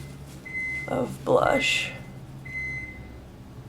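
A microwave oven gives two steady electronic beeps, moderately loud and a couple of seconds apart, while someone speaks over the first one.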